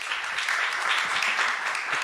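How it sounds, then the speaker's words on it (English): Audience applause at a Portland charter reform forum, a steady wash of many hands clapping that holds evenly for about two seconds with no one speaking over it. "Go ahead, you can applaud that."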